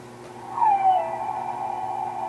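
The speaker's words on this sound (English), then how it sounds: "It's literally like a whale going like and sped up and reversed." A whale call effect, sped up and reversed, gives a single short swooping cry that settles into a sustained tonal hum and fades slowly, quiet and isolated.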